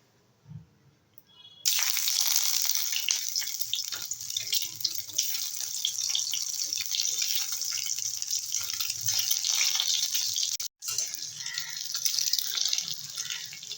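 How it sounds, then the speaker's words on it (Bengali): Eggs frying in about a spoon of oil for an egg and chicken curry set off a sudden, steady sizzle that continues evenly with a brief dropout partway through. "এখানে আমি এক চামচের মতো তেল দিয়েছি এবারে ডিমগুলো ভেজে নেব"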